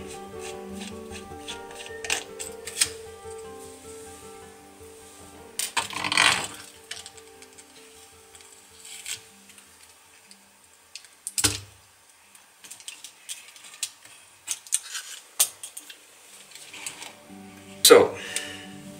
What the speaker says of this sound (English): I shall quickly remove the heatsink screws